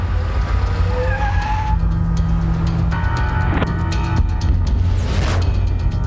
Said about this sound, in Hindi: रोक गाड़ी रोक पीछे ले।